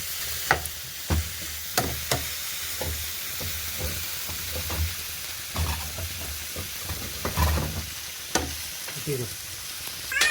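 Egg bhurji masala with Kashmiri chilli powder sizzles in a saucepan under constant stirring. Close, steady frying crackle is broken by repeated scrapes and knocks of the spoon against the pan.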